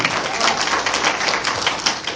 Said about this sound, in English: Give yourselves a round of applause for coming to the Late Show, everybody.